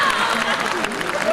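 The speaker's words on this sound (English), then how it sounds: "A hand clap, please." Audience applause at the Miss Tourism Uganda 2016 pageant unveiling, a brief steady wash of clapping with voices blended in.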